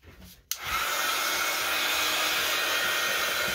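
A hair dryer snaps on after a brief pause and blows at paper for a cereal box journal cover, a loud, steady whooshing roar that carries through to the end with no talk.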